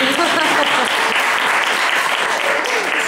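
A crowd claps steadily, dense and sustained applause filling the space, close and loud.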